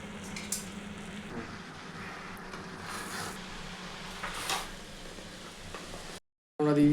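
Vegetables and Maggi chowmein stir-frying in a pan, a steady soft sizzle with scraping stirs and a few louder clatters, ending in a brief gap and a short burst of different noise.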